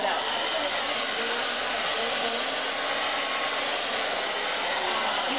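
A hair blow dryer roars steadily up close while hair is styled with a round brush. The airflow is continuous and even, with no voices over it.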